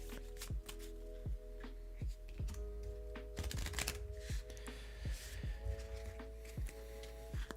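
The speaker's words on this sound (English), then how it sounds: "I haven't shuffled these yet, so I want to make sure this is like really shuffled." KeyForge playing cards are shuffled by hand up close, giving rapid papery riffles and taps in a busy, irregular rhythm over a steady low hum.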